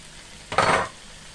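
Ackee and saltfish cooking in a pan give off a brief burst of sizzling and stirring, rising suddenly over a quiet kitchen hiss and fading within half a second.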